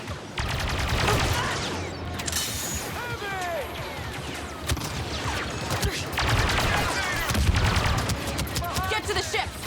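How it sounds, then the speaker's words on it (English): Blaster gunfire in the video game Star Wars Battlefront 2, rapid dense volleys of laser shots with crashes and explosions throughout, mixed with shouting voices. "Then just keep shooting!"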